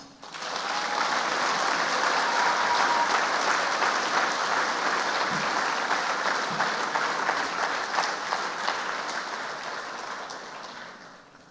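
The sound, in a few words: dinner audience applauding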